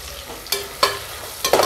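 Onions fry in a pressure cooker with a constant soft sizzle, broken by three scraping stirs of a spoon against the metal.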